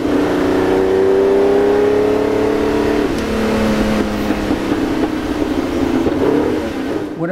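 A Ferrari Testarossa engine revs hard while driving, a loud, continuous mechanical roar that rises in pitch, drops at a gear change around the midpoint, then climbs again, with no voices.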